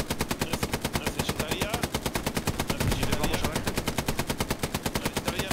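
Rapid machine-gun fire in Hell Let Loose, a steady pounding stream of evenly spaced shots running the whole time, loud and close, with faint battlefield noise behind.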